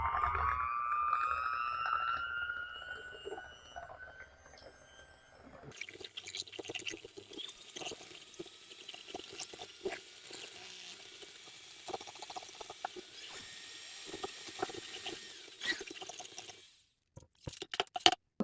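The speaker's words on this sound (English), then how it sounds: "next we're going to mix all of our wet ingredients together," An electric mixer whirs steadily through wet ingredients for keto cottage cheese chocolate chip muffins, starting with a rising tone and then churning with continuous rattly mechanical texture before stopping near the end.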